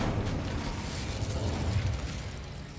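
Incendio fire spell cast in Hogwarts Legacy, a dense whooshing burst of flame with a low rumbling roar that holds steady for a few seconds, close and fairly loud.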